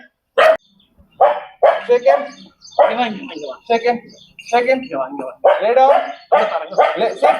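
Rajapalayam dogs at a dog hostel in Salem with natural surroundings, giving short, sharp barks in quick bursts close by, mixed with people talking.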